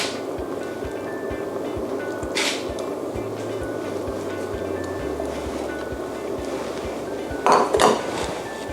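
Small chunks of diced taro and boiled yam tumble into a metal pot of Job's tears and grain porridge with a clattering splash near the end, over a steady background hum and occasional utensil clinks.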